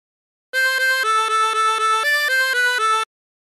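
Harmonica playing a phrase of She'll Be Coming Round the Mountain using bent notes: about ten clear, reedy notes in a steady rhythm, stepping up and down in pitch, close and alone, with silence before and after.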